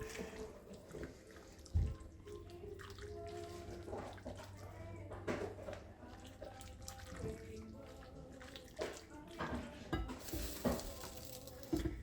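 Stroganoff being mixed with Italian seasoning in a pan gives close, irregular scraping and stirring strokes over a low, continuous sizzle, with faint voices at times.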